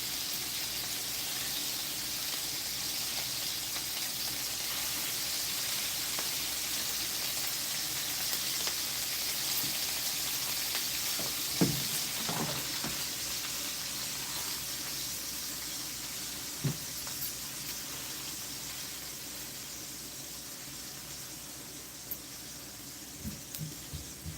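Meat for Irish stew sears in a pan, a soft continuous hiss that holds steady throughout, with a few faint clicks and taps from handling the pieces.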